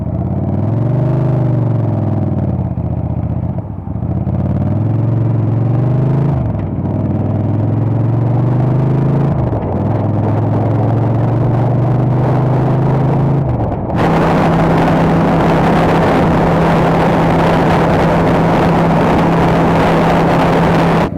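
Motorcycle ride captured through an external furry-covered microphone, with a steady loud engine drone rising and falling through several gear shifts, then a sustained heavier rumble with broad wind noise for the rest of the ride.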